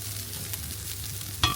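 Soaked rice is lightly fried and stirred in a pan, giving a soft steady sizzle with a faint low hum, then a sharper scrape near the end.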